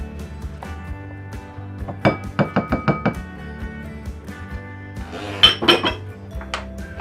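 Cream cheese and butter are creamed together in a bowl for a carrot cake frosting. A utensil knocks against the bowl in a quick run of about six clinks, then a denser cluster of clatter, over faint background music.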